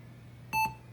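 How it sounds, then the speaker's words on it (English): An old desktop computer gives a single short, clear electronic beep at startup. It rises out of a low fan hum and lasts a fraction of a second. "There's the beep that makes me jump."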